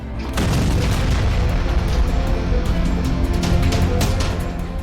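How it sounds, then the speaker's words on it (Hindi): A drone explosion at a Romanian port, heard as a sudden loud boom followed by a sustained roaring rumble of blast noise and debris, with no talking. "फिर जब ड्रोन धमाका हुआ तो तस्वीरें दिल दहला देने वाली थी।"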